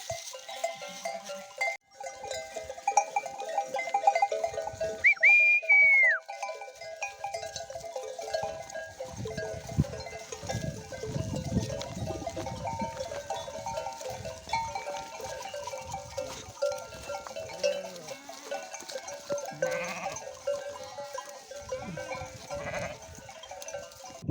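Lambs and sheep bleat near and far along a cold stream, scattered calls rising over a soft bed of running water, with a clear nearby bleat standing out early on.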